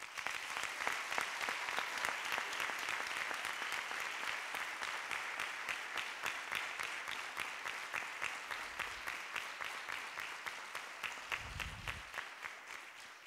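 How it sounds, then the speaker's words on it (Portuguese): An audience applauds during an outgoing association president's speech, the clapping gradually settling into a synchronized rhythmic beat that continues steadily at moderate volume to the end. "o nosso tesoureiro, o João Fernandes, a quem eu gostava de pedir uma grande salva de palmas."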